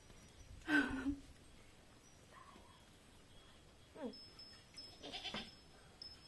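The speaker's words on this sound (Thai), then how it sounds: "แพะแพะแพะ" Goats bleating on a farm: a few faint, separate cries, one wavering bleat early, then shorter calls later, all heard at a distance over quiet background noise.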